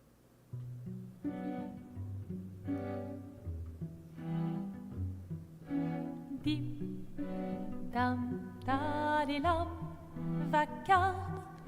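A gentle solo piano rendition of a piece from the video game Clair Obscur, with low bass notes under a rising, slightly more animated upper line toward the end.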